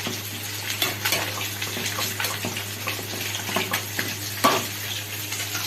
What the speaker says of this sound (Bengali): এদিকে কাতলা মাছ ভাজা বসিয়ে দিয়েছি।